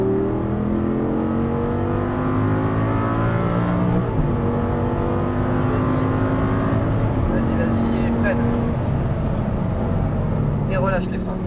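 An Audi R8 V10 accelerates on a racetrack with a loud, close engine drone whose pitch climbs in repeated upshift sweeps, heard from the cabin with a person speaking over it.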